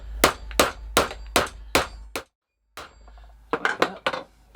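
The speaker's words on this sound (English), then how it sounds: "Just going to hammer flatten out that bit of metal, hammer it onto a solid block of scrap." A bent metal piece is hammered flat on a solid scrap block: five evenly spaced ringing metallic strikes, a brief pause, then a faster run of several more clanging blows, close and loud.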